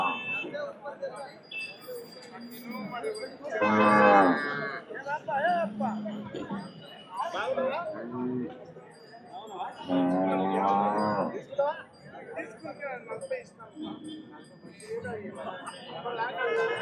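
Cows at the Sardar Nagar cattle market give two long, loud mooing calls several seconds apart, amid a busy background of people talking and faint clinks.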